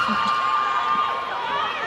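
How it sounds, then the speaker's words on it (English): Fans screaming and cheering at a netball match between Singapore and Singapore A, a sustained high-pitched crowd roar filling the arena. "She's got some fans here. You can hear them screaming."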